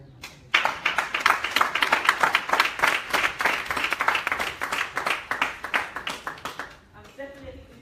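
An audience at a women's summit claps after a speech, a loud burst of many hands that starts abruptly, holds for several seconds, then tapers off into quiet.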